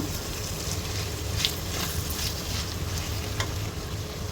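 Bitter gourd fries in a pan with a steady, close sizzle that holds at one level throughout, broken by a few faint clinks and stirring scrapes.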